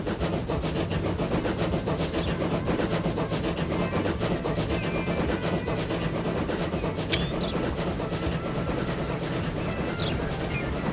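A train in the simulation game Transport Fever 2 runs along the rails with a steady rolling rumble and rhythmic clickety-clack, loud and continuous, accompanied by faint brief chirps.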